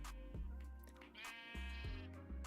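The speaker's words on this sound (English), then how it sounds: "And we summon sheep" A sheep bleats in Minecraft, with several short, wavering calls close by over a steady low hum. No one speaks.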